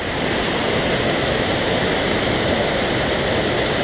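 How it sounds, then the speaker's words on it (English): A waterfall on the Mt Whitney trail roars in a loud, unbroken wash of rushing water, dense and constant throughout with no pauses or voices. "Crazy waterfall."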